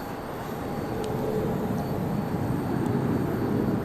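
An airliner departing Charlotte Douglas International Airport on a windy day gives a steady, distant jet rumble that builds slightly over a few seconds, with no talking.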